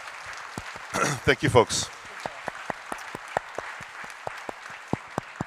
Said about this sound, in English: How about a big round of applause, everyone, for our panel today?